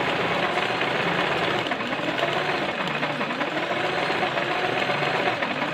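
A Singer sewing machine stitches embroidery on fabric held in a frame, giving a steady, continuous mechanical whirr at close range, loud and unbroken from start to finish.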